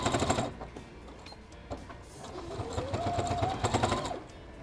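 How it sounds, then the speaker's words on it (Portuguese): A sewing machine runs a straight seam on a thermal bag, its needle hammering in quick close bursts at the start and end with a slower, creaky stretch of stitching between; no one speaks. "Aí aqui eu vou estar passando uma costurinha reta, só para prender."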